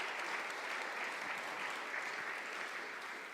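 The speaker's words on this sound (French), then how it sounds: "on peut applaudir." Steady, fairly quiet applause from a church audience, even dense clapping that continues without a break for a few seconds.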